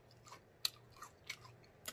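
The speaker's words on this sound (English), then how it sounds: "The okra is fried crunchy," Crunchy fried okra being chewed in a home soul food meal, a few crisp close bites spaced about half a second apart, quiet and alone with no talk.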